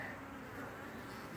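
Bees drone steadily around a feeder of dyed sugar-water syrup, a continuous close insect hum with no voices.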